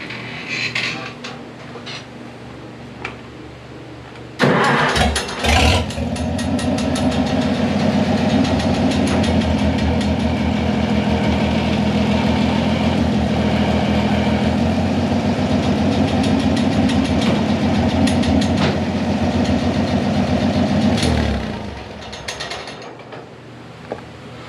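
An Oliver 770 tractor engine cranks over, catches, and runs with a loud, steady mechanical rumble for most of the clip, then shuts down and fades out.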